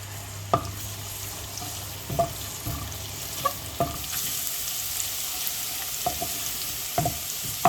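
Garlic fries in hot oil in a pan for a tangra fish curry with mustard leaves, giving a steady sizzle with scattered sharp spatula taps, close and with no talking.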